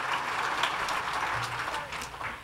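A congregation at a Shabbat evening service applauds, a soft, steady patter of many hands clapping in a large sanctuary, heard at a moderate distance with no talk over it.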